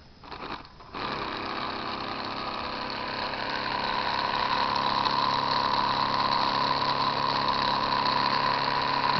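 Small homemade Van de Graaff generator built from a pill bottle, driven by a 12-volt motor, starts up and then runs with a steady, continuous mechanical whir and hum that stays fairly loud and even throughout, with no talking.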